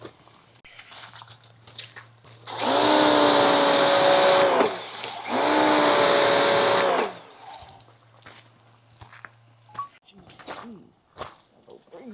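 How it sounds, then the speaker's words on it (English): An electric pressure washer, rated 1,600 watts and heavy duty, runs while an RV is cleaned in the rain. It gives two loud whining motor bursts of about two seconds each with a brief dip between, and quieter handling noises follow. "Overall, I am very ecstatic about this electric pressure washer."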